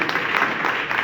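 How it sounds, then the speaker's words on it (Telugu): An audience at a church Christmas celebration in Secunderabad gives steady applause. The dense clapping is fairly loud and even, filling the brief moment with no talk. "గట్టిగా చప్పట్లు కొడదామండి."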